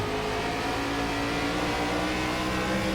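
ARCA race car engines in the iRacing game at Nashville Fairgrounds, a loud sustained high-revving engine drone flat out down the back straight, with steady harmonic whine and no pauses or talk.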